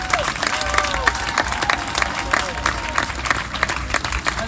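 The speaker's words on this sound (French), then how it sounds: "Applaudissements pour Monsieur Patrice Schleiter." An audience applauds Patrice Schleiter at a Fête de la musique event in Monthey, with steady dense clapping and crowd noise throughout, voices mixed in.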